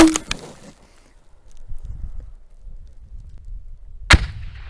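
Two sharp reports from a Fort-600A grenade launcher ring out, one at the start and another near the end, separated by quiet low rumble and faint movement.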